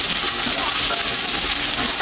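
Green peas and chopped green chillies fry in a hot pan, giving a loud, steady sizzling hiss that runs unbroken for the whole stretch.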